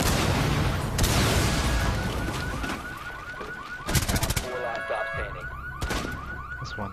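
Gunfire in Rainbow Six Siege, shooting through a wall, sounds as loud, crackling bursts of shots mixed with a wailing alarm-like tone, with some sharp volleys standing out near the middle.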